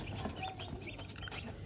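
Newly hatched Aseel chicks chirping inside a homemade incubator, a few faint, brief peeps over a steady background hum.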